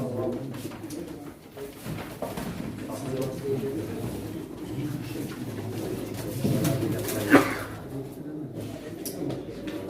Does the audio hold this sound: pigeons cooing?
yes